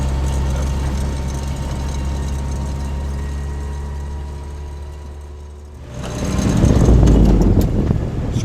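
Rally car engine droning steadily through a desert village in Morocco, a low continuous rumble for several seconds before swelling louder and rougher as the car accelerates near the end.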